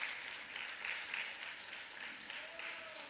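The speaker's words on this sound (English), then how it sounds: "Shall we give him a round of applause?" Applause from an audience at a municipal assembly opening, a steady broadband patter of many hands sustained across the whole stretch at moderate level, with faint voices mixed in.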